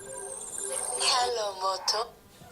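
During a city council meeting, a new mobile phone rings with a short melodic electronic tone lasting about two seconds, mixed with voices in the room.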